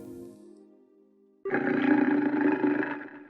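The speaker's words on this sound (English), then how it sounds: "A pack of wolves?" A pack of wolves in the video game Trails in the Sky bursts in with a sudden, loud, sustained snarling roar that cuts off a soft, low, steady tone and stays strong to the end.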